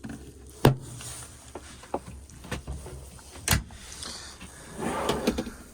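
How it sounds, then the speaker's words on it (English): A cutlery drawer in a Ford custom camper slides open with a couple of sharp knocks and rattles, followed by a soft rolling rumble, close by with no talking. "Cutlery drawer."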